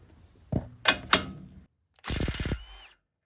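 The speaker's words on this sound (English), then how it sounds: "We got our little 1/2-inch stubby M12 Milwaukee with a 19mm impact socket." Milwaukee M12 stubby 1/2-inch impact wrench with a 19mm impact socket, working on a 3rd-gen 4Runner control arm: a few short sharp mechanical bursts, then a steady hammering rattle for about half a second, close and fairly loud.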